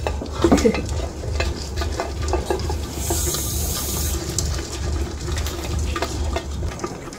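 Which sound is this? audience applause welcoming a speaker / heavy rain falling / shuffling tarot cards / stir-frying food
stir-frying food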